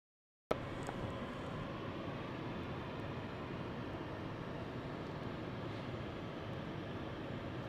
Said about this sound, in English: Another aircraft spun into position, ready for a departure.